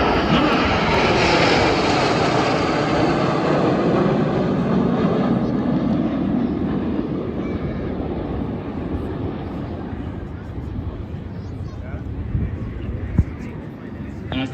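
Red Arrows, the RAF aerobatic team, fly a display at an airshow, a loud continuous roar of jet engines that slowly fades as the formation passes, with a commentator's voice over it.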